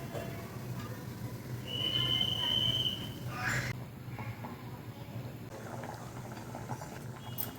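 Fish curry (meen kulambu) boiling in a pot, a steady low bubbling and simmering hiss running through the whole stretch, with a brief higher tone and a few soft clinks over it.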